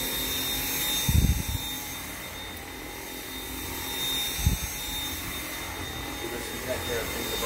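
A Dyson V7 cordless stick vacuum whines steadily with a high constant tone and broadband hiss, used for daily floor cleaning, with a couple of low thumps as the head bumps or is moved.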